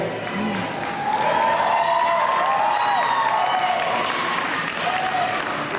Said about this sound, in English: so that's why you hear that cheer